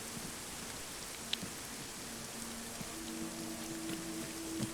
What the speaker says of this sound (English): which is why you hear that rain going